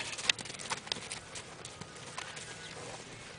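A horse's hooves clip-clop in a soft, easy lope, the light footfalls fairly close with an uneven patter over low background noise.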